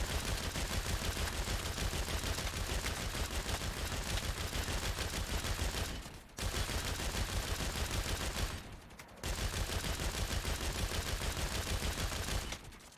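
Automatic weapons fire continuously in Saints Row (2022) during a co-op run. The near, loud rapid shots stream on almost without pause, broken by only two or three brief gaps, and no one speaks.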